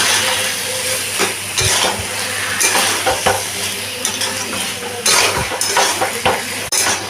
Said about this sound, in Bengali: এবারে ভালো করে আমি আবার মিশিয়ে নিচ্ছি।